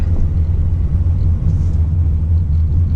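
A 2019 Subaru Crosstrek rolls over dirt and gravel, heard from inside the cabin as a loud, steady low rumble of road and tyre noise that stays even throughout, with no talking.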